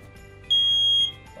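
A smoke and heat detector set off by a heat gun emits a single steady high-pitched electronic tone lasting about half a second, close and clear over a faint low hum.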